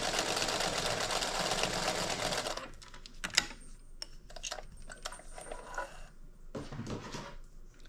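A sewing machine backstitches through a fabric wallet, its dense, steady running at the start giving way to short, uneven bursts of stitching and small clicks from the machine, fairly close and with no talking.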